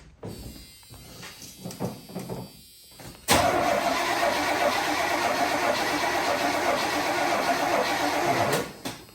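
A 1985 Chevy Suburban C20 engine cranks in a few short bursts, then fires on its first start and runs at a rough, steady roar for several seconds before cutting out, loud and close.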